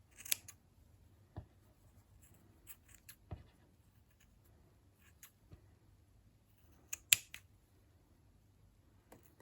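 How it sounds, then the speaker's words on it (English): Sharp, sparse snips of sharp scissors trimming felting wool, a few isolated clicks spaced irregularly over a quiet background, with one louder pair of cuts near the end. "just using a sharp pair of scissors. You can easily just trim that off as well."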